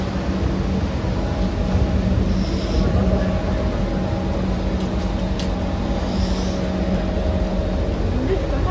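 Steady rumble of a moving Singapore metro train heard from inside a carriage, continuous and fairly loud, with faint high whines drifting in and out.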